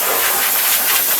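High-pressure water sprays inside Spoon's industrial parts-washing machine for cleaning Honda engine parts, a loud, close, continuous hiss with a faint pulsing texture and no speech.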